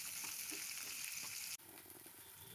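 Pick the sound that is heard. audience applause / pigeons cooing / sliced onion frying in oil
sliced onion frying in oil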